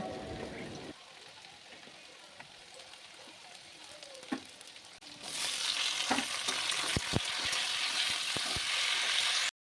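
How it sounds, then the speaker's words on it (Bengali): Potatoes in hot oil with slit green chilies and chopped tomato dropped in, the frying hiss swelling loudly halfway through, with scattered clinks and stirring scrapes over a steady sizzle. "আলুগুলো ভাজা হয়ে গেছে এখন আমি এর মধ্যে চেরা কাঁচা লঙ্কা আর টমেটো কুচিটা দিয়ে নেব"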